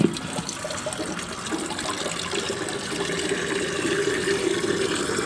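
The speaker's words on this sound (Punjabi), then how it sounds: "ਹੁਣ ਜਾ ਕੇ ਇਹਦੇ ਥੱਲੇ ਭਰਦੇ ਆ ਪਾਣੀ" Water pours steadily into a clay pot, a continuous splashing rush with a slight rising tone as it fills, close by and without voices.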